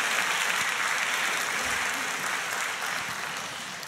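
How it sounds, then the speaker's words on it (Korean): Steady applause from a church congregation at a Sunday worship service, a broad continuous patter of many hands that slowly fades toward the end. "큰 박수로 축복합니다"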